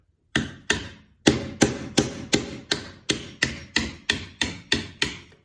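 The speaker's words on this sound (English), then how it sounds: "Really seems this paint scraper is really doing a good job." A paint scraper shaves down a sacrificial insert on a drill press table in about thirteen sharp, evenly spaced strokes, each a close, loud scrape that cuts off quickly, with a brief pause after the first two.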